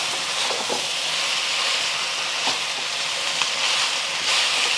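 Mee goreng noodles with green onion, bean sprouts, egg and sauce sizzle and hiss loudly and steadily in a hot wok, with a few soft clinks and stirring scrapes in the close, continuous frying.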